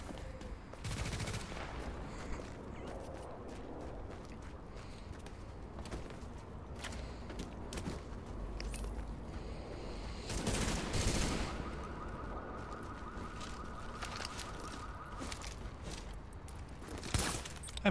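Scattered gunfire crackles in the shooter game Tom Clancy's The Division Beta, distant bursts and single shots over a steady murky background, with a louder flurry near the middle.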